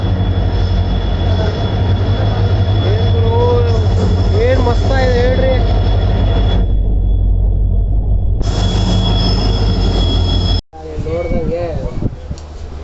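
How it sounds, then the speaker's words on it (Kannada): A train engine pulls into a railway station with a loud steady rumble and drone, a high squeal of wheels, and people talking nearby. "ಯಾವುದೋ ಇಂಜಿನ್ ಬರ್ತಿದೆ ನೋಡಿ"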